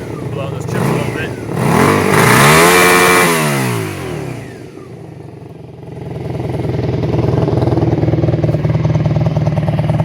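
Engine of a 1987 Honda Magna VF700C with a drilled exhaust, revving up loudly and falling back, then settling into a throaty, rumbling idle.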